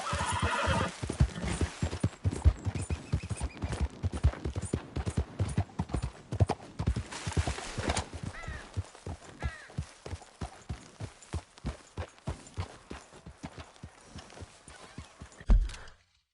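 A horse in Red Dead Redemption 2 trots with a quick run of hoof clip-clops and repeated neighs and whinnies, loud and close, the hoofbeats thinning out toward the end with a brief call of encouragement.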